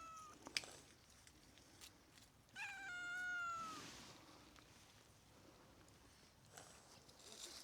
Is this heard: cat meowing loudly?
yes